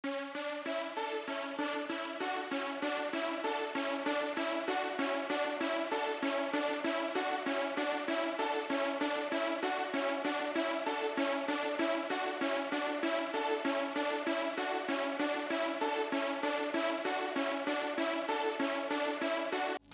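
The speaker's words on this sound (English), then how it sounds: "we're left with this smooth, soft synth sound" A soft polysynth melody of repeated, evenly pulsing chords, gentle and smooth, playing steadily without any other sounds.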